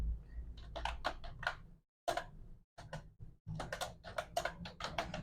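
Bursts of keystrokes on a computer keyboard as a name is entered into a spreadsheet, close and crisp with brief pauses between quick clusters of taps.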